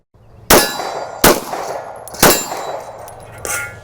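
Taurus G2C pistol shots ringing a steel target at an outdoor range, heard from right beside the steel: four sharp metallic clangs spaced about a second apart, each with a bright lingering ring.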